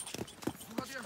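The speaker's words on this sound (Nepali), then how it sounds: "म चाहिँ टक्क घोडामा आएको" Horse hooves clop on a mountain trail near Rara Lake, a few quick uneven strikes close by while a person talks over them.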